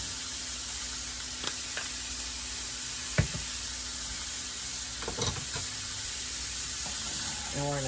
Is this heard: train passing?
no